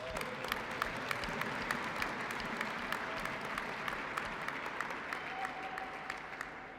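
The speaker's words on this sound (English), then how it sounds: "she deserves a special round of applause." Audience applause at an ice arena ribbon cutting: a continuous round of clapping from a modest crowd, fairly faint and even, with a few sharper claps popping out.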